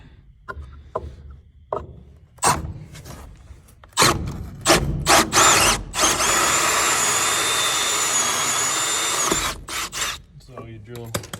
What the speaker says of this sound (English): I will take a little board or another 2x4 and drill the hole size that I need.